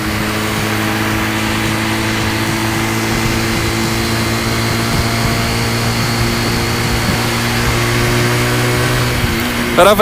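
Zipp Raven Lux 125 motorcycle with a 125 cc inline twin-cylinder engine, heard while riding: a steady, loud mid-pitched engine drone holds throughout with no speech.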